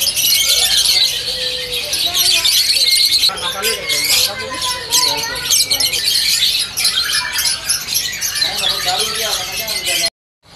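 Caged birds at a kiosk in Pramuka bird market squawk and chirp loudly and continuously, shrill overlapping calls close by in a busy indoor market, with voices audible underneath before cutting off abruptly at the end.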